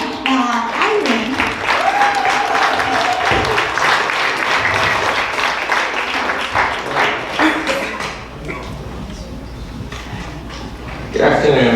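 Audience at Florida Tech's African American Read-In gives a steady round of hand clapping that carries on for several seconds, then drops away as a voice comes in near the end.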